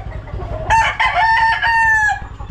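A rooster crows loud and close in one long, drawn-out call, while chickens cluck and a steady low engine-like thrum runs underneath throughout.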